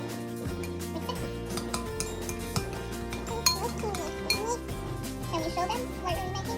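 A child stirs slime ingredients of glue and a mixing liquid in a bowl, with repeated clinks and scrapes of a utensil against the dish, heard under children's chatter and speech.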